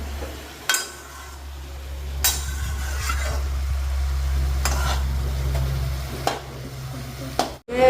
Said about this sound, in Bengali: এবার পটল দিয়ে দিয়েছি আর দিয়ে দিয়েছি লবণ। এবার আমরা ভালো করে নেড়ে নেব।